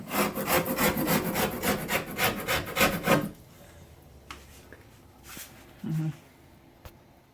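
A bladed hand scraper with spare blades stored in its handle, worked during a bathroom remodel, rasps in about a dozen quick rhythmic strokes up close, then stops, leaving near silence with a few faint knocks.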